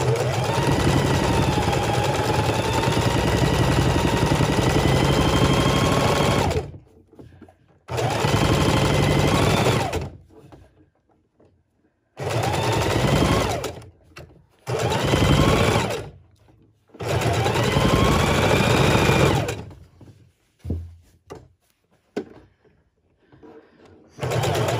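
A sewing machine stitching fabric for a neck bone pillow, loud close mechanical whirring in long runs of several seconds, broken by brief pauses and quiet stops.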